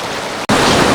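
Fast-flowing hill river stream at Suntalekhola near Samsing, Kalimpong, rushing past boulders: a steady, dense broadband roar with no voices, briefly cutting out midway before returning closer and louder.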